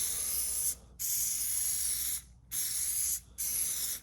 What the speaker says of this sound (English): Now, let's go ahead and spray this one.